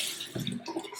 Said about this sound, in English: we wet our beauty blender.